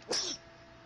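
A single short, sharp sneeze, close and clear, heard during a Minecraft gaming session, followed by quiet.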